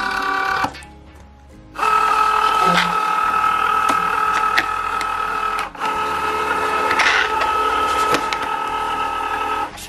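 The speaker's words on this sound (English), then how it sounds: "The machine automatically feeds the vinyl through it just to double check that it has enough length of material." A Cricut Joy cutting machine whirs as it feeds a sheet of smart vinyl through itself. A loud, steady mechanical hum with a tonal whine runs almost continuously, with a brief lull near the start and a short catch midway.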